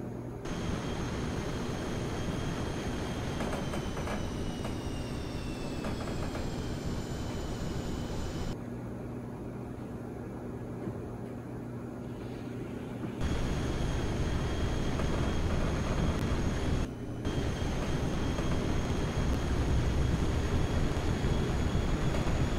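Steady broadband roar of an F-18 jet flying a carrier landing pattern, held for the whole stretch with a brief dip midway and a slight swell near the end, sounding close and continuous.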